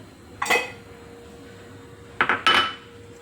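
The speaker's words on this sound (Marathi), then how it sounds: "चाळणी याच्यावरती ठेवून देऊ त्याच्यावरती मी काय करते हे झाकण ठेवते" An oiled metal steamer sieve is set onto a pressure cooker pot and then a lid is placed on top, giving a single metallic clank followed by a quick double clatter and another clang.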